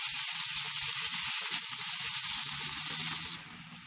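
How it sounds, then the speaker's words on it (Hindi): Tomato and chili sizzle steadily as they fry in a pan with rice and chickpeas on the way, a dense continuous crackle with small pops, fairly close and alone, easing slightly near the end. "Después de 2 a 3 minutos fritamos, ponemos este tomate con ají"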